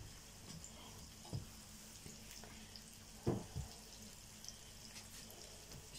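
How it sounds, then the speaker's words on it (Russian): Soft, faint sizzle of fish frying in a pan with a loose-fitting lid, with a few scattered pops and crackles. "Рыба жарится"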